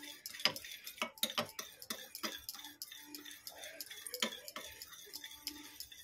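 Batter for chit pitha is beaten by hand in a bowl, giving rapid, rhythmic clicking and tapping strokes that continue steadily at close range.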